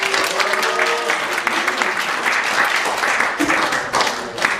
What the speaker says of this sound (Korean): 열렬한 환영의 박수로 맞이해 하십시다